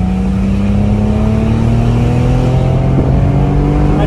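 A Porsche Boxster GTS pulls hard uphill in second gear, its engine note climbing steadily as the revs rise. The sound is loud and close, heard from inside the car with no talking.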